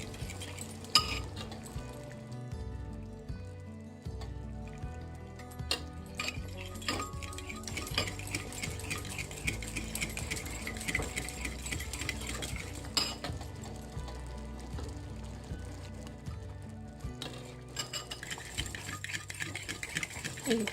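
Ladle scooping oxtail soup from a pot, scattered clinks and scrapes of metal against the pot repeating irregularly over a long stretch, close up, with background sounds underneath.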